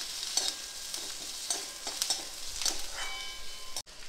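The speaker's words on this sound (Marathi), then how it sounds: "ते आपण थोडंसं तेल टाकायचं आणि छान लाल होईपर्यंत भाजून घ्यायचे." Chopped onions frying in a little oil in a pan for a Maharashtrian veg Maratha dish, a steady close sizzle with occasional stirring scrapes and clinks, no voices.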